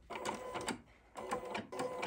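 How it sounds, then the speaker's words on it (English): An embroidery machine sews a tack-down stitch on flex foam, its needle chattering in quick rhythmic bursts with short pauses between runs, close and fairly quiet. "So now this is our tack down stitch for our flex foam."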